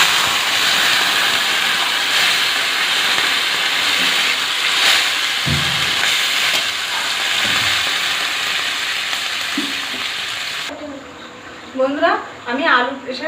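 Water poured into a hot pan of fried capsicum and potato, a loud steady hiss and bubbling steam with occasional knocks, fading out as a voice begins speaking at the end.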